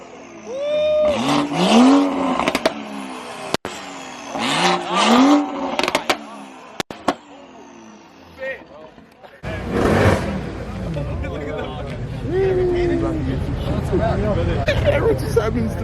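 Car engines revving at a street car meet in LA, with repeated loud rising revs and a surging exhaust roar over crowd noise and voices.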